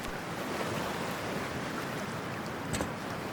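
Ocean waves and surf from Cyberpunk 2077 roll in a steady, broadband wash with a light wind layer and a faint splash near the end, with no voices over it.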